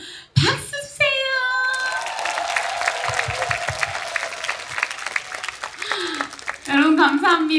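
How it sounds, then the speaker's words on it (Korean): An outdoor festival crowd at a 2022 Goryeong county singing contest bursts into loud, sustained applause that fills most of the moment, with a voice speaking over it at the start and again as the clapping fades. "박 터트리는 것만큼 박수 주세요."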